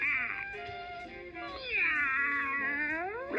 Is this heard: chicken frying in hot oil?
no